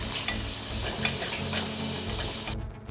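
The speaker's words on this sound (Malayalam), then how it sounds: "എണ്ണ ഒന്ന് ചൂടായി കഴിയുമ്പോഴേക്കും ഒരു 1/4 ടീസ്പൂൺ കടുക് ചേർത്ത് കൊടുക്കാം." Mustard seeds and urad dal sizzle and crackle in hot oil for a mint chutney tempering, a loud, close, continuous frying hiss with stirring that cuts off sharply near the end.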